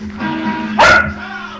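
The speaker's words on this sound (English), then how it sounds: "Sorry about the dog." A dog barks once, a single loud close bark cutting in the middle of a quiet room with a faint background hum.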